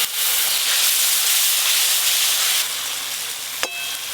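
Spices sizzle loudly in hot oil after a little water is added while cooking a mustard-style Bengali black carp curry, a steady hissing steam burst that eases slightly near the end, with a brief clink of utensil.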